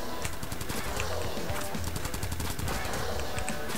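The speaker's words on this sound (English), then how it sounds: "Now that's a submachine gun." Submachine gun firing in the video game Crimsonland, a fast, steady stream of rapid shots held at constant loudness throughout.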